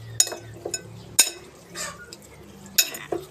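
Fresh and cooked shrimp stirred into a spicy khanom jeen salad, with sharp utensil clinks against a bowl at uneven intervals and soft mixing sounds between them, close by.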